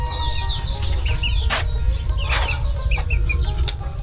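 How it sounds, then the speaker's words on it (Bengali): Chickens clucking around a simple rural house on a remote river island char, several birds making close, overlapping clucks and calls over a constant low background rumble, with no talking. "বাড়িতে ঘোরাফেরা করছে বিভিন্ন ধরনের গৃহপালিত পশু, তার মধ্যে মুরগি অন্যতম।"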